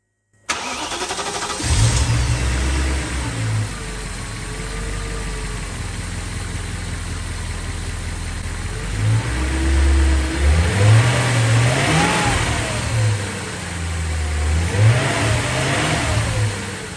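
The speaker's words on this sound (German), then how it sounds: "schöner seitiger Motorlauf, auch beim Hochdrehen da keine unregelmäßigen Geräusche hörbar" BMW M3 V8 starting up after a control unit swap, then idling smoothly and revving up several times with rising and falling engine pitch, loud and close with no one talking.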